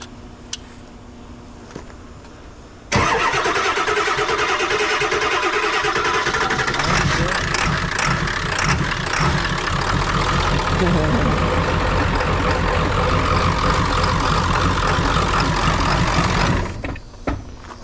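After a brief quiet moment, a big 7.3 diesel truck engine cranks and roars to life, then settles into a loud, steady rumbling idle before cutting off.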